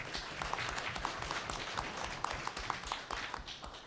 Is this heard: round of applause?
yes